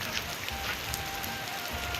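Heavy rain falls continuously outdoors, a constant rushing patter with scattered louder drops, fairly close and steady, with no talk over it.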